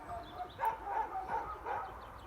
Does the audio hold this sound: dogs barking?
yes